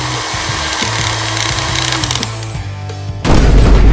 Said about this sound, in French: Je vais utiliser une perceuse pour créer une fenêtre.